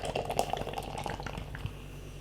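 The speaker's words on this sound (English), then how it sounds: "Let's get it in a glass." Lager, an Orangeboom-style Dutch pilsner, glugs quickly into a glass, with close bubbly gurgling and fizzing that runs steadily for a couple of seconds with no talk.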